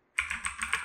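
Computer keyboard keys clack in a quick run of presses, crisp and close, several taps in steady succession with no voice present.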